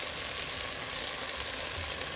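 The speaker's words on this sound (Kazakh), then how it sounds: "томат қосып қатты отта қуырамыз" Onion, tomato, bell pepper and carrot fry in hot oil in a pot with meat for mashkhurda soup, giving a steady, fairly quiet sizzle that is bright and hissing throughout.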